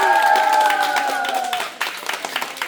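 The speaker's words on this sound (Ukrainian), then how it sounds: "Аплодисменти!" Audience applause with cheering after a team wins an English-language quiz tournament, sustained clapping from a crowd under a loud host voice and music tones, then scattered claps after a brief dip.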